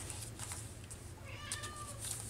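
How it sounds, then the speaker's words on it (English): A cat meows indoors, a few short, fairly close calls over a steady low background hum, with no one speaking. "What are you meowing for?"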